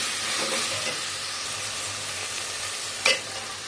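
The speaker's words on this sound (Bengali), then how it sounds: "ভালো করে কিমাটা কষে নিচ্ছি" Minced meat sizzles steadily as it is stir-fried in a pan with salt, a continuous close frying hiss with a single sharp scrape of the spatula near the end; no voices.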